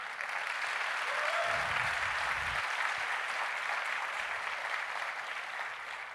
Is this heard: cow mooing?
no